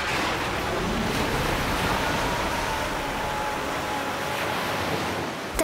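Flood waters in an animated scene surge in a steady, dense roar of rushing, churning water, loud and unbroken throughout with no voices.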